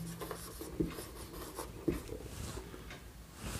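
Pen or chalk writing by hand while a definition of angular velocity is written out during a physics lesson, with soft scratchy strokes and a couple of sharper taps, close and fairly quiet with no speech.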